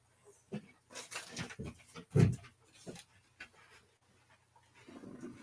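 A dog pants in short, irregular breaths at close range, with a sharper snort or huff in the middle, amid quiet rustling and room noise.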